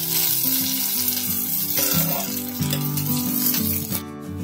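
Sliced capsicum and onion sauté in a pan, a soft sizzle running under steady tonal background music, with a brief stir clatter near the end.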